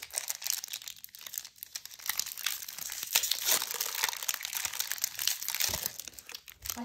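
A Pokémon Silver Tempest booster pack wrapper is torn open, giving steady foil crinkling and crackling with sharper tearing bursts throughout, close up and with no talking.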